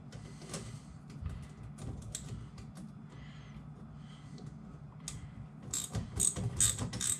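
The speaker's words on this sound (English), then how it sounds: "Let me tighten these things down real quick." Hand ratchet tightening bolts on a snap-in grill for a Polaris RZR, giving repeated close clicking strokes in short bursts with brief pauses, sharper and busier toward the end, with no talking.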